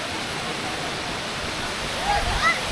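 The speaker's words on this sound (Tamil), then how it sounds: "ஸோ இதுதான் உங்களுக்கு வாட்டர் ஃபால்" Kasmal Pen waterfall near Mumbai, a steady broadband rush of falling water, loud and continuous, with a faint bird chirp or brief high tone near the end.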